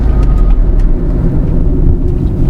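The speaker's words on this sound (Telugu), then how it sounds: "ఒకసారి బ్రేక్ వేస్తున్నా ఈ స్పీడ్లో." Tata Tiago hatchback braking hard from speed during a road test, a loud steady rumble of tyre and road noise filling the whole moment with no talk over it.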